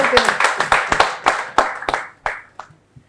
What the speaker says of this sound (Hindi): जोरदार तालियां हो रजनी श्रीवास्तव के लिए।